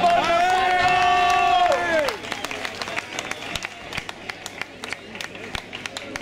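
Applause from a nightclub crowd for a flamenco singer, starting under a sustained sung or held tonal note, then continuing as scattered, sharp claps with crowd noise for several seconds.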